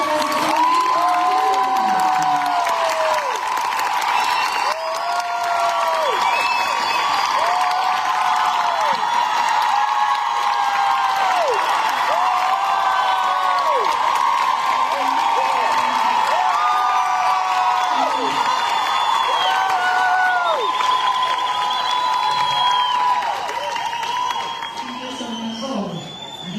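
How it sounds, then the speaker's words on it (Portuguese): A crowd at a fan meeting in Brazil cheers and applauds loudly and steadily, with whoops and shrill screams rising above the sustained clapping throughout. "mais uma salva de aplausos por toda essa apresentação incrível"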